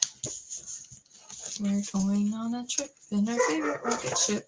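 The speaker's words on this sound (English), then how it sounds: "And I apologize, that's my dog." An old female dog barks indoors, short sharp yaps breaking in and out while someone talks over them.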